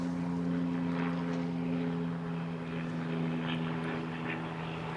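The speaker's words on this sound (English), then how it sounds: "I see an airplane." A propeller airplane drones overhead above a rural road near a horse farm and lake, heard from an e-bike: a steady, moderately loud engine hum with a firm low tone that holds evenly throughout.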